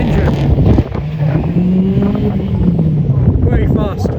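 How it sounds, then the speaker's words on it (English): A highly modified Land Rover Discovery with a V8 engine passes close at a rally car event, loud throaty engine roar with shifting pitch as it revs and accelerates, surrounded by crowd noise. "Land Rover Disco, highly modified with a V8 engine."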